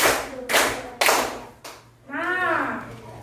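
Children in a classroom clap their hands in a counting game, giving several sharp, distinct claps in quick succession, followed by a voiced call.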